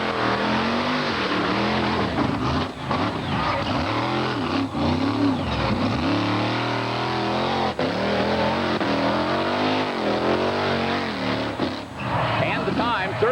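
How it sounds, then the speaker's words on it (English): A 1946 Chevrolet tow truck converted into a monster truck drives over cars at a 1989 monster truck and mud bogging event in Bloomsburg, PA. Its loud engine roars and revs continuously under an announcer's commentary. "First up is Gary DeMauro, the 36-year-old driver of this unusual 1946 Chevrolet tow truck."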